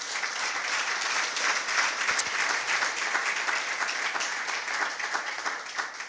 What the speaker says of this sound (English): And you can clap now.